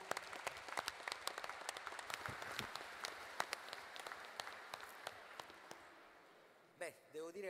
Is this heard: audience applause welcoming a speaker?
yes